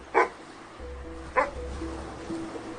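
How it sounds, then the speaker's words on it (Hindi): A dog gives two short, sharp barks about a second apart, moderately close, with a low rumble underneath and a faint tonal hum between them. "ये कौन सा कुत्ता भौंक रहा है कब से?"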